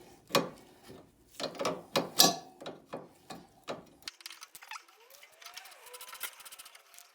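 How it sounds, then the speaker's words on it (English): A spanner ratchets a nut loose on a Jeep Patriot or Compass anti-roll bar drop link. The ratchet clicks come in a quick run of close metallic ticks, then fade into quieter rustling and a faint squeak. "Then you get your spanner and you can undo the nut."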